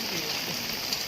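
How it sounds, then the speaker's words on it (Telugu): Heavy rain falls during fishing in a village, a dense, steady hiss of drops striking surfaces, constant and close throughout the short stretch. "మొత్తం వర్షం పడుతుంది,"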